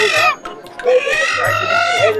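Chickens cluck and squawk loudly and continuously at a rural duck and chicken market in Bangladesh, with a low murmur of traders underneath.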